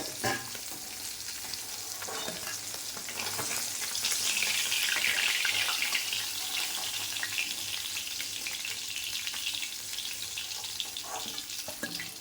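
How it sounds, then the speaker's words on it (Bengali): Bata fish frying in hot oil give a soft, steady sizzle throughout, with light stirring and scraping in the pan and no voices. "ভাজা হয়ে গেছে মাছগুলো"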